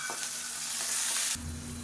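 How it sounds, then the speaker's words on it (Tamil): Garlic sautés in a hot pan with a steady hiss and crackle of frying, as a spoon briefly stirs through it, before the sizzle settles into a lower bubbling tone. "பூண்டு நல்லா வதங்கிட்டு இருக்குது"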